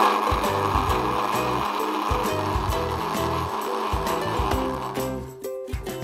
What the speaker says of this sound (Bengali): এখন ব্লেন্ড করার পালা।